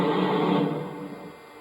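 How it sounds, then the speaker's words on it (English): A brief, loud burst of steam blowdown from a Lionel Legacy N&W J-Class 4-8-4 #611 model locomotive, a broad rushing hiss that fades away within about a second. "Here is the steam blowdown sound."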